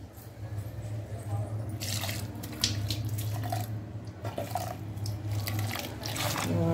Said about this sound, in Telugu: ఇప్పుడు ఇందులో వాటర్ వేద్దాం